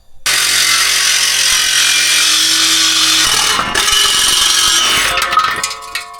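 A power tool grinds loudly and continuously through the exhaust pipe of a Hyundai Tucson, the pitch shifting as the cut progresses and ending with rattling clatter as the part comes free.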